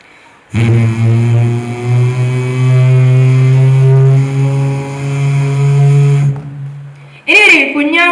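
A voice imitates an old airplane taking off at a school arts festival mimicry show: a loud, sustained droning engine hum that holds steady for about six seconds, then breaks off into a brief burst of vocal noise.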